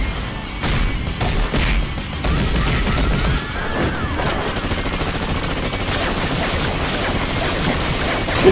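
Rapid bursts of gunfire and crashing impacts from an animated Death Battle fight between Chuck and Segata, loud and dense throughout with a brief voice near the start.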